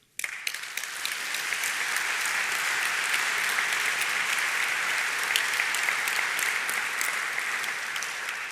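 Sustained applause from a congress audience at an opening speech in Luxembourg, a steady dense wash of clapping rising quickly after a sharp start and holding evenly loud throughout.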